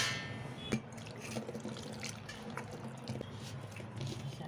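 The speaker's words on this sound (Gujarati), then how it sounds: "આપણે જરૂર મુજબ પાણી નાખીશું" Water is added bit by bit to a buttermilk and flour batter for patra fritters, giving faint, irregular drips, splashes and trickles heard close by in a quiet room.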